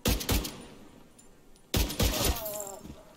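Rapid gunfire from a double-shot gun in The Division 2, heard as two clusters of sharp, close shots separated by a brief lull filled with lower clatter.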